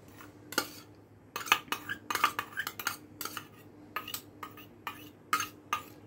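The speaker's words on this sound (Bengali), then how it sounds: "একটা বড় বাটি নিলাম, তুমি দিচ্ছি চিড়েটা, তার সঙ্গে দিয়ে দিচ্ছি আলুগুলো" Flattened rice and potatoes are tipped into a big bowl for chire aloo pakora, giving close, irregular clinks and clatters of a spoon against the bowl in quick bursts, with no talking.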